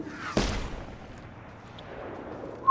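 A single sharp burst of video game gunfire rings out near the start, then a low rumbling tail fades into quiet ambience, and a short loud hit comes at the very end.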